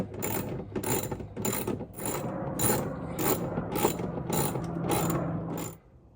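Ratchet tightening a bolt while installing a hood lift on a Jeep Wrangler 392, giving a steady run of about ten crisp clicking strokes close by, then stopping.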